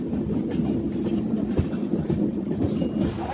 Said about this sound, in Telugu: మనం ఇప్పుడైతే మంగళగిరి రైల్వే స్టేషన్కి అయితే ఎంటర్ అవుతున్నాము